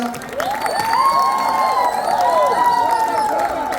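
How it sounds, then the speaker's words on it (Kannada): Loud crowd cheering and clapping from an audience at a birthday musical event in Qatar, a dense roar of whoops and applause running through the whole stretch with shouted voices rising above it. "ನಿಮ್ಗೆ ಇಷ್ಟ ಆಗಿರೋ ಚಪ್ಪಾಳೆ ಬರ್ತಾ ಇರ್ಲಿ ಜೋರಾಗಿ"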